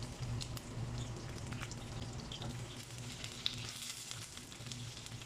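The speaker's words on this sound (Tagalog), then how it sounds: "Igisa na natin yung ating dilis." Dried anchovies (dilis) sauté in a pan with a steady, faint sizzle and crackle, continuous with no talking over it.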